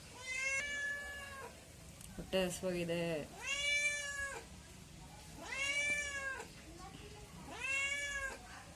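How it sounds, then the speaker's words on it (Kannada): A neighbour's house cat meows several times, long rising-and-falling cries spaced a second or two apart, close by, while a person talks in between. "ನೋಡಿ ಇಲ್ಲಿ ಆ ಕಡೆ ಮನೆ ಬೆಕ್ಕು ಬಂದಿದೆ."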